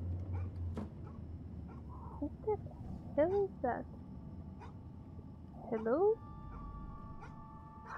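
A dog barks and yips inside the horror game Fears to Fathom, a few sharp barks and whiny yelps at moderate distance, with a person speaking in between.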